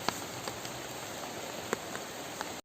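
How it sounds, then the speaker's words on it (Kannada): Rain keeps falling in a monsoon garden, with faint scattered drips and soft patter against a quiet background. "ನೋಡಿ ಮಳೆ ಇನ್ನೂ ನಿಲ್ಲಿಲ್ಲ, ಹನಿ ಬರ್ತಾ ಇದೆ."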